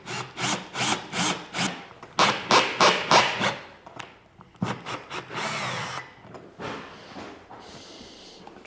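A power drill drives screws into a plasterboard ceiling in short repeated bursts, each a close, loud whirring grind with brief pauses between, followed by a longer scraping rub; no talk.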